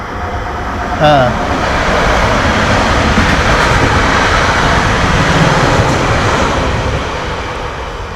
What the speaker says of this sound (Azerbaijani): Sürət qatardır.